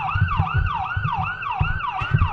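A local ambulance in a parade sounds its siren, a loud wailing tone rising and falling in quick repeated sweeps close by, with low rumbling beneath.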